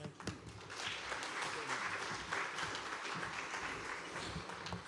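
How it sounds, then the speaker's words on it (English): A conference audience claps for a panel, a dense, steady applause lasting several seconds at moderate loudness, with faint voices mixed underneath. "Please give the panelists another round of applause"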